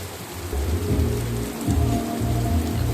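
Heavy rain pours steadily at a dargah shrine, a dense continuous hiss with low rumbling swells throughout, loud and close with no voices.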